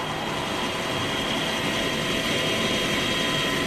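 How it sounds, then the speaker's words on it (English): A helicopter flies over the 2012 Tour of California bike race. Its engine and rotors make a loud, constant roar that fills the clip with no talk. "just having a look down from the helicopter"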